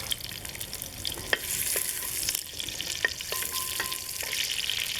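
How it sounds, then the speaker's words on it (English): Sliced onions fry in a pan for a curry, a close, fairly soft sizzle broken by several sharp scraping and stirring knocks, with no voices. "And then we add 2 onions, sliced onions."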